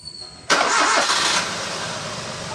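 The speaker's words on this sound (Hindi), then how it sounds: "अब इंजन स्टार्ट हो गया।" A Maruti Alto K10 VXI petrol car with an overheating problem starts up: a sharp crank catches into a loud burst of engine, then eases back into a steady idle, close up, with no talk.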